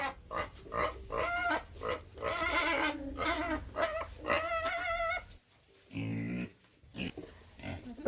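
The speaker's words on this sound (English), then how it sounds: "we are now done with feeding the pigs" Pigs at feeding time in an African village squeal and grunt loudly in repeated, overlapping bursts. After a brief lull, one drawn-out, lower squeal follows, close by and with no speech.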